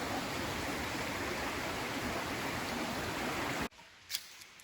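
A creek flows steadily beside a lunch spot on a fall hike in Shenandoah National Park, a dense close rush of water that cuts out abruptly near the end, leaving a few faint clicks.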